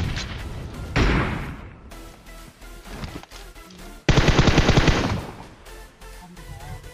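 Loud bursts of automatic gunfire in the PUBG Mobile battle royale game, with rapid repeated shots in several volleys, the heaviest burst coming in the latter half, close and without speech.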